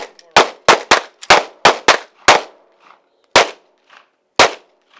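Pistol shots at a defensive pistol drill: a fast string of six sharp, loud reports, then two more after a pause for a magazine change, each crack ringing briefly.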